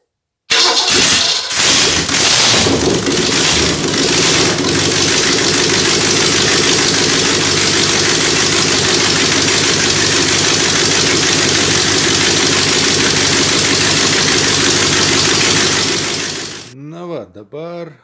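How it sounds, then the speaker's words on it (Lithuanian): An OMC 235 outboard engine, freshly repaired and warmed up, runs at a steady idle from start to finish, with a loud continuous drone and a low rumble, then cuts out abruptly near the end. "Dabar variklis sušilęs, užsiveda lengvai, tuščios eigos apsukas palaiko puikiai."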